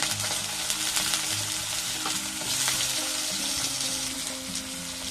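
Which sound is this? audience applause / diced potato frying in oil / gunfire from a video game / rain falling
diced potato frying in oil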